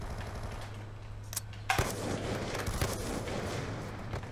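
Bursts of gunfire in a Call of Duty style shooter: a couple of sharp distant shots against a low steady hum, with no talk.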